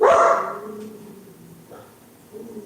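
Dogs at a house let out one loud, close bark, then a few fainter yips and whimpers trail off in a quiet outdoor setting.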